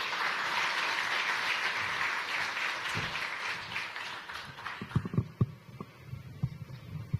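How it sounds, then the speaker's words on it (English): An audience at an IBM Research Africa Lab anniversary event applauds with steady, dense clapping that tapers into a few scattered, separate claps near the end. "A round of applause."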